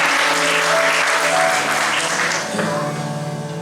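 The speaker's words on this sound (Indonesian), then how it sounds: "Tepuk tangan yang terbaik buat Onesimus." A church congregation at an Indonesian Independence Day thanksgiving service applauds loudly and steadily, with sustained keyboard notes ringing underneath and the clapping thinning slightly near the end.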